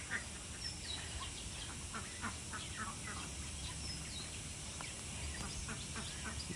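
Ducks on a pond in a park in Arunachal, scattered faint quacks over a constant background of outdoor noise, distant and soft.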